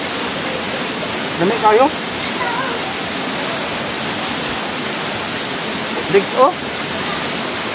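A waterfall and stream roar as a constant loud wash of rushing water, with people talking briefly over it and a couple of short chirps or calls.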